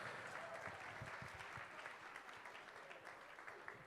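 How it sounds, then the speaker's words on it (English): Applause from a show audience fills the space, a dense steady wash of many hands clapping from start to finish with no break. "Give you a round of applause out there"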